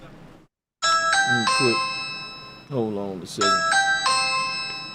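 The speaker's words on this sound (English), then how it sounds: "That's my phone there, I believe." A mobile phone rings with a bright chiming tone, two bursts of layered notes separated by someone speaking briefly, set against quiet room noise.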